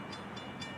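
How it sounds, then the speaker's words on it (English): Train nearing a railroad crossing where cars are stuck under a lowering gate arm, heard as a steady distant rumble with faint horn-like tones rising and falling through a short stretch. "You can hear a train coming now"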